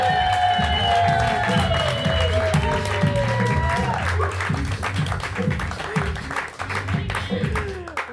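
A live podcast audience applauds for the DJ, a loud burst of rapid clapping and some cheering that gradually thins out over several seconds.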